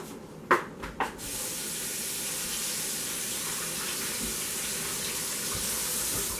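Something is rinsed under a running tap: a few short clunks at the start, then a continuous close hiss of flowing water that stays steady to the end.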